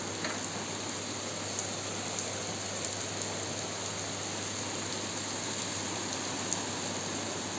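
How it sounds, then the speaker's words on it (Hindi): Heavy rain falls steadily outside, a dense, even hiss with no pauses, heard at moderate distance. "बाहर बहुत तेज़ बारिश होने लगी।"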